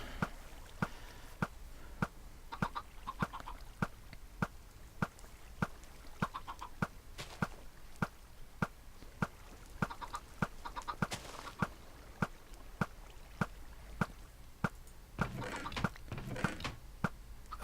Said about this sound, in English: So here come our chickens.